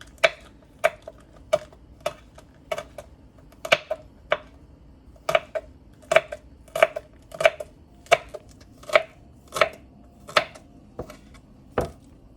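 A knife chops poi bhaji leaves finely on a board for Guyanese bara, about twenty crisp, sharp knocks in a brisk, fairly even rhythm, close and loud with no talk.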